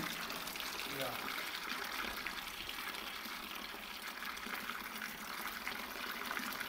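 Viroquil disinfectant fluid poured into water for cleaning a chicken coop, a steady gushing, splashing liquid sound that runs continuously at close range.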